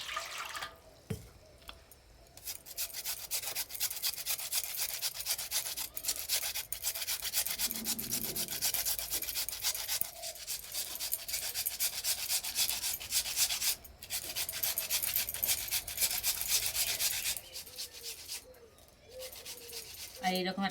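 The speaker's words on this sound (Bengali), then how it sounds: "এবারে আলু দুটো গ্রেট করে নেব" Potatoes scraped across a small-hole grater make a steady, close rasping rub that runs almost continuously, broken by a few short pauses, with faint background noise.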